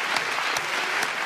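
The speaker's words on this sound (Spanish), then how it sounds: "Un aplauso." A Spanish TV studio audience claps steadily, a dense, even wash of many hands at moderate level for a brief stretch.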